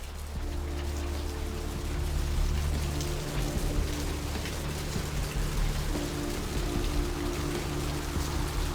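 Rain in the game Vampire: the Masquerade – Bloodlines falls as a dense, continuous hiss on surfaces, with a low steady hum beneath it throughout.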